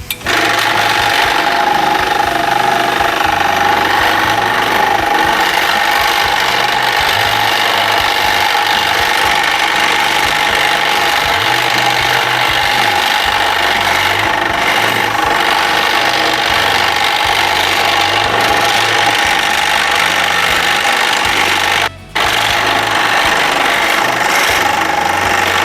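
A floor scraper machine stripping flooring, a loud, steady mechanical drone with a rough rattling undertone that runs continuously throughout, dropping out for a moment near the end before resuming.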